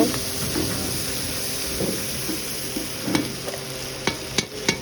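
Ginger paste frying and being stirred into a masala base for goat curry, with a steady sizzle under scraping and clinking of a spoon against the pan, a few sharper knocks near the end.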